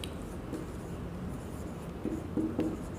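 Writing out a definition by hand during a lecture on constraints and accessible states: soft, continuous scratchy strokes with a few firmer taps near the end, close and alone, with no speech.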